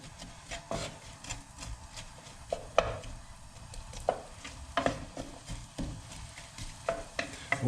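Onions frying on low heat for saag aloo, a quiet steady sizzle punctuated by repeated scraping and knocking of a spoon stirring the pan, uneven strokes spread across the clip with no speech.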